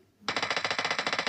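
Rapid automatic gunfire in a battle-royale shooting video game, a steady burst of about fourteen evenly spaced, loud, close shots beginning abruptly after a brief quiet moment.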